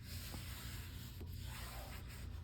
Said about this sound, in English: I'm gonna burnish this tape in real good